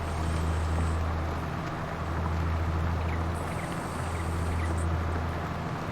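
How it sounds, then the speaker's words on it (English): A tractor engine idles in a farming video game, giving a steady low droning rumble with faint mechanical hiss, loud and constant for six seconds with no talking. "turn off the engine"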